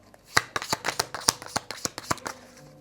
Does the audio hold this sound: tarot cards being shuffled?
yes